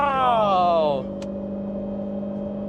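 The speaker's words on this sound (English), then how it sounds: "Definitely more airflow, more supercharger whine, everything." Corvette C7 Z06 supercharged engine revving, with a rising then falling whine for the first second before it settles into a steady idle drone, close up and loud.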